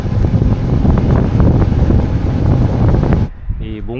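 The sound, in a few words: strong wind while cycling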